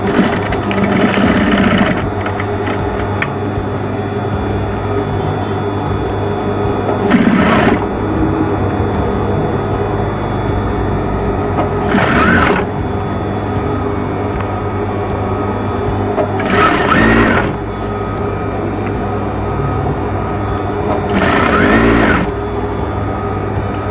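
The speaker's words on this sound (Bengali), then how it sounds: "এখন এটা সুন্দরভাবে সেলাই করে দেব" Sewing machine stitching an apron from smooth fabric, a loud steady whirring hum running through the whole stretch with brief pauses and bursts of faster stitching at regular intervals, heard alone without talk.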